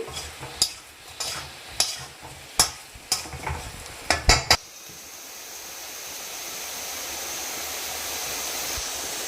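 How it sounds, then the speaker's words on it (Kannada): Potatoes with black pepper fry in oil, with about ten sharp, rhythmic scrapes of stirring in quick succession. They give way to a smooth, rising sizzle that continues alone. "ಪೆಪ್ಪರ್ ಹಾಕಿದ್ಮೇಲೆ ನೋಡಿ ಎಣ್ಣೆ ಎಲ್ಲ ಬಿಟ್ಕೊಳ್ಳುತ್ತೆ"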